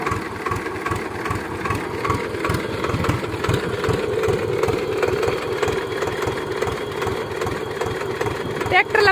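A tractor engine idles in a farm field with a steady, low, chugging rumble, close and continuous for several seconds, with faint voices in the background.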